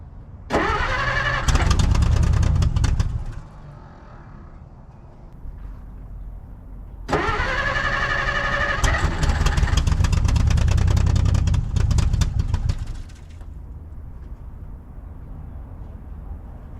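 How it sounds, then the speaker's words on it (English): A 1950 Dodge Meadowbrook engine cranks over with a starter whine and rapid chugging in two long, loud attempts, catching briefly with a few rough firings before falling back to a quiet pause. "let's turn the key and see if we can start get that fuel pump pumpinating"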